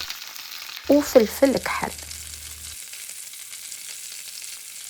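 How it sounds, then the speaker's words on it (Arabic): Chicken thigh pieces, seasoned with salt and black pepper, sizzle steadily in a pan while browning, a constant close hiss running the whole time, with a voice speaking briefly over it near the start. "خليت الدجاج يتحمر مليح من الجهه الاولى"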